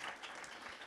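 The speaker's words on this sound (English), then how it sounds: "He's clapping, right?" Brief clapping from an audience at a talk on technology and democracy, a quiet, dense patter of hands that is heard for under a second.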